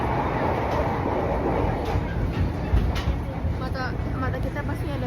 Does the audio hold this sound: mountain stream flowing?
no